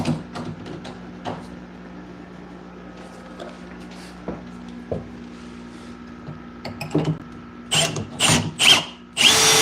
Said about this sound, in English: How obnoxious is my drill?